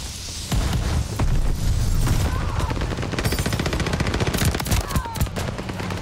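Call of Duty Vanguard gunfire with incendiary rounds, loud, rapid automatic bursts crackling almost continuously close up, with a few heavier booms and no talking.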